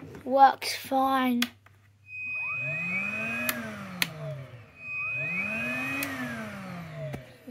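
Henry cordless vacuum cleaner, switched on twice in a row, each time whining up to a steady hum and then winding down, heard close after a brief spoken remark.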